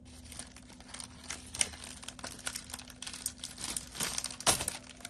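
Close crinkling and snipping as scissors cut open a paper mail package, irregular sharp crackles with one louder snap near the end, no talking.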